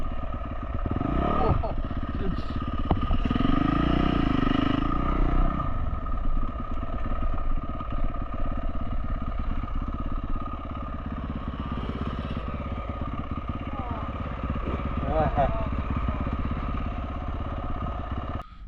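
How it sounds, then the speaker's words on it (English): Yamaha dirt bike ridden along single track trails, its engine buzzing and revving unevenly with surges and bursts of throttle, up close, with a rider's voice heard over it. "This is that dirt bike, I call it the dirt bike playground."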